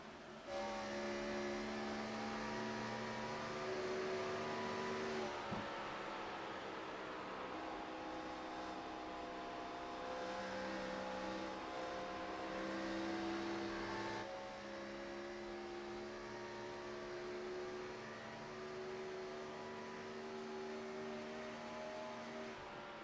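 Race car engines at Atlanta Motor Speedway in iRacing hold a steady, loud droning whine throughout, with several cars running close together and a brief shift in pitch partway through.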